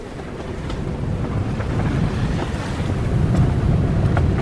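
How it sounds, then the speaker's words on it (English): Strong breeze blowing across Peck Lake around a moored sailboat, a steady broad rushing roar with buffeting microphone wind noise and faint water lapping, continuous and close throughout. "it is a little bit breezy right now. Blowing like"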